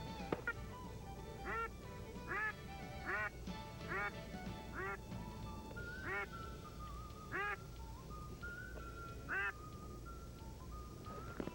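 A wild duck quacks repeatedly as it approaches, about nine calls in a steady rhythm, fairly near against a quiet outdoor background.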